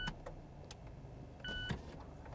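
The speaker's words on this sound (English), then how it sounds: "our tester can close the roof" The electric roof of a convertible car closes, a motor whirring with faint clicks and a couple of short tonal beeps, heard from inside the cabin under low road noise.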